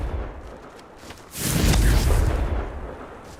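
Hogwarts Legacy's Confringo blasting spell detonates in a single loud, deep explosion that swells abruptly, rumbles heavily for about a second, then fades out.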